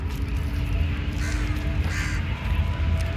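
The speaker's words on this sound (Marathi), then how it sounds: "गच्च झाड भरले बघा कावळ्यांनी" A few crows caw in short harsh bursts from a tree crowded with crows, over a steady background hum and noise.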